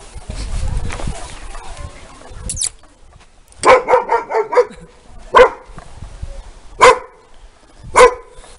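A purebred German shepherd barks near a house: a quick run of several barks, then three single, spaced barks, fairly loud against a quiet background with some low rumbling at the start.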